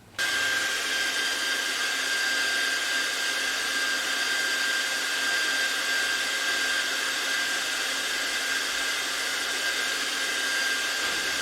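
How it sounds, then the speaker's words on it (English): A hair dryer, blowing air onto a small triboelectric wind generator, switches on and blows steadily at full power, a constant close whooshing whine with no other sounds. "using this hairdryer to sort of simulate that wind"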